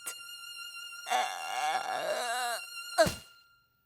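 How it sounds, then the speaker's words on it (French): Daffy Duck, the Looney Tunes cartoon duck, cries theatrically in a French dub: a brief yelp, then a long, wavering, loud wail, then a sharp sobbing cry that fades out. "regardez comme je pleure de toutes mes forces"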